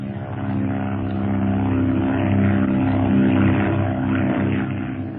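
A propeller airplane engine drones in flight as a radio drama sound effect, a loud, steady low roar that swells slightly in the middle and carries on without any voices.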